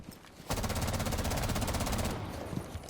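Sustained automatic gunfire in Rainbow Six Siege as a weapon is sprayed at a wall to test recoil, a loud rapid burst lasting about a second and a half after a quiet start, then tailing off.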